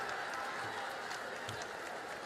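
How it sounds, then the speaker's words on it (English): Basketball fans in an arena applaud and cheer after a big road win, a dense, steady wash of crowd noise and clapping that holds at an even level throughout. "the Gamecock fans on their feet applauding this big road win"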